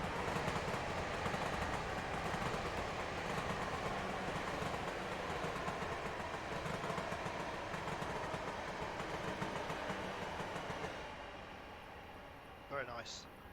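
Class 444 electric train in a railway simulator game rolling past, a steady loud rumble and clatter of wheels over track that fades toward the end.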